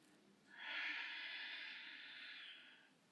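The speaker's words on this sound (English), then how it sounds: "Keeping the breath nice and audible. We're just breathing in and out through our nose now." Audible breathing in and out through the nose during a beginner yoga session for back pain: one long, breathy, hissing exhale that rises quickly, holds for about two seconds and fades, heard up close with no talking.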